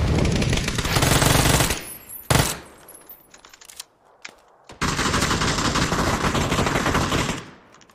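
Sustained automatic gunfire from a shooter video game, loud close bursts of rapid fire lasting a couple of seconds, a brief pause with scattered shots, then another long continuous burst.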